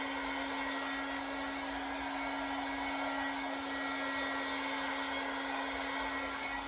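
A heat gun blows with a steady, loud, even whir and a constant high hum while warming vinyl wrap on a Dodge Challenger rear bumper.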